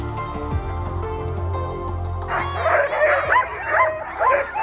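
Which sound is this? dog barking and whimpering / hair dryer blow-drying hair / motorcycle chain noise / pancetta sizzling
dog barking and whimpering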